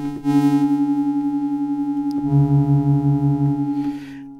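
A Rob Papen Blue2 software synth plays a sustained tone with an added sub-harmonic layer, a steady buzzy note that shifts to a lower, heavier pitch partway through before fading, with no voices.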